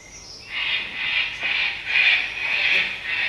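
Large white parrots and a laughing jackass (kookaburra) call together in a continuous, harsh cacophony of overlapping screeches and cackles, fairly loud and steady throughout with no voices.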